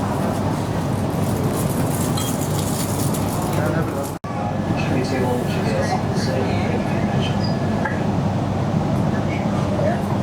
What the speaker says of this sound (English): It's the Melbourne train.